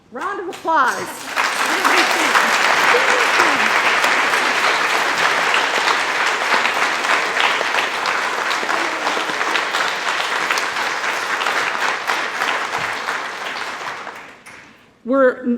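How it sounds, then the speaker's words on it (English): An audience at an associate nursing pinning ceremony at Illinois Valley Community College claps in sustained, dense applause for about fourteen seconds before it fades out. "How about a round of applause?"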